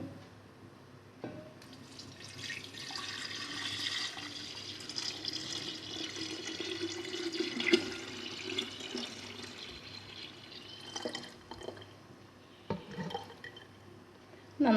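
Dry ginger water poured steadily into a jar for honey ginger wine, a continuous close liquid splash and trickle lasting many seconds with a few small clinks near the end.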